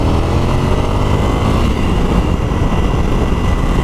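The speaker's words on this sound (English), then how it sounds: "Another thing I want to do is to change the exhaust. You can kind of hear now." Ducati Scrambler Desert Sled motorcycle running on its stock exhaust, a loud, steady engine drone with a dense low rumble that holds evenly throughout, with no talk.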